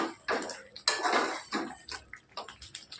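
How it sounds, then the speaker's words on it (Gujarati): Spoon clinks and scrapes against a pan while cashews are stirred into boiling gravy, irregular clattering strokes with wet bubbling between, close and moderately loud. "હવે આપણે કાજુ એડ કરીએ. મિક્સ કરીએ."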